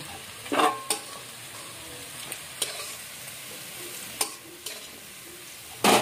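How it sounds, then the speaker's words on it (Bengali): Leftover morning rice frying in oil in a pan, a steady soft sizzle broken by occasional stirring scrapes and clatters, heard close with no talking. "এবার এটা সুন্দর করে এটা ফ্রাই করতে হবে"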